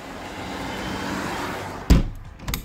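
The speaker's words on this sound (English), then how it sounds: "it was so bloody loud, the cars going past" Cars speed past loudly on a road outside an open kitchen window, a steady broad roar of traffic that suddenly gives way to a loud thump as the window is pulled shut, leaving it muffled and quiet.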